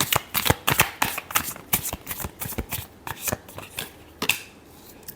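Tarot deck shuffled by hand in a steady series of crisp riffling snaps and slaps, close up and distinct, continuing for several seconds without any talking.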